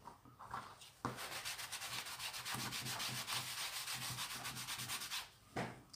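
A small cloth rubs over paper during mini-album crafting. The rubbing is close and scratchy, with rapid back-and-forth strokes lasting several seconds before it stops, and there is no talk.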